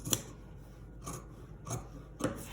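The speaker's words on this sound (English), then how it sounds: "You can take your fabric scissors or your paper scissors, whichever you like, and just correct that seam allowance." Scissors snip through a corset pattern to trim the seam allowance, four separate crisp cuts spaced roughly half a second apart, close and quiet with no talking.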